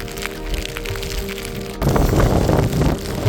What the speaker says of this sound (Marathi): खूप खूप खूप असा हा पाऊस आहे.